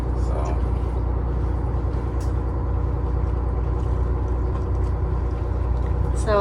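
A 1993 Hatteras 70 motor yacht passing nearby on a West Michigan harbor, heard as a steady, loud low-frequency engine drone and water rumble that holds throughout, with faint higher clatter near the end.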